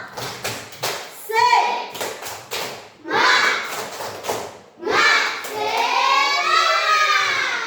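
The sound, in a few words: children doing rhythmic 'tepuk semangat' spirit clapping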